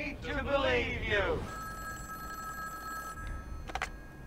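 A telephone rings in a Ghostbusters trailer, a steady electronic trill holding for a couple of seconds after a burst of talk, followed by a brief clatter.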